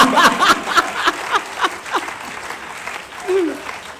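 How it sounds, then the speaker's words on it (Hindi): Scattered clapping and light laughter from the audience at a Hindi poetry gathering ripple through, with a few brief voices in between; the applause is thin and uneven rather than a full ovation. "तालियां आप तो बजा दो"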